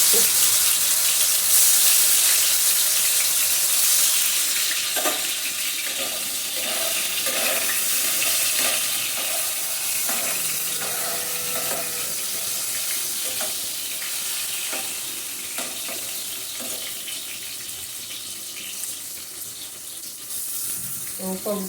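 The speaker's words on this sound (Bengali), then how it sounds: "এখন সয়াবিনগুলো ভেজে তুলে" Soybean chunks fry in hot oil over a medium-low flame, giving a steady, moderately loud sizzle with faint clicks and stirring scrapes throughout and no voices.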